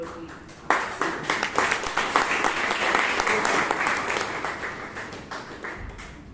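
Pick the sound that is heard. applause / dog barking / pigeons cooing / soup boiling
applause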